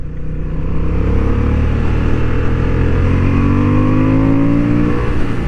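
A new Honda Hornet 750 motorcycle accelerates hard on a racing track, its loud engine note climbing steadily through short gear ratios over several seconds, heard close and without talk.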